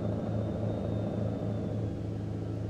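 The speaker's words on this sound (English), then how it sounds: "Right now, overspeeding the engine," Truck engine overspeeding while rolling downhill with a lumber triple-trailer rig in American Truck Simulator, a steady, loud droning rumble with a faint high whine above it, holding constant throughout.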